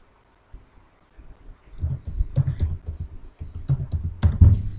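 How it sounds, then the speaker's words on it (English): Someone types an email address on a computer keyboard. Close, irregular bursts of key clicks speed up after a quiet start, with a few sharper taps near the end. "if I just typed one of my other email addresses"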